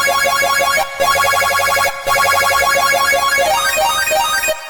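A very fast synth arpeggio built with FL Studio stock plugins ripples in rapid rising note runs, bright and loud, with brief gaps between phrases and no voices.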